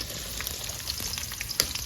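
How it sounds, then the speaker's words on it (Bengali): Onions fry in oil in a wok with a brief, faint, even sizzle and a single small clink, heard up close with no speech. "বন্ধুরা পেঁয়াজটা ভেজে নেবো"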